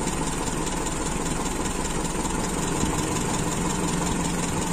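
Carbureted Toyota Kijang Super engine idling steadily nearby, a continuous low rumbling drone with a slight settling of revs and no voices.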